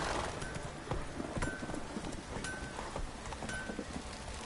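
Roach, a horse in The Witcher video game, gallops steadily with a rhythmic clip-clop of hooves throughout, fairly loud over a soft rustling background.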